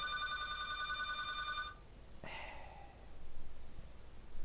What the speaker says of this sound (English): There's a loud ass phone.